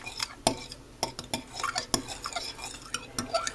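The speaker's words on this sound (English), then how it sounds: "Give that a nice little stir" Utensil stirring pancake batter with melted butter in a bowl, giving a steady run of quick clinks and scrapes against the bowl, close and fairly loud with no talking.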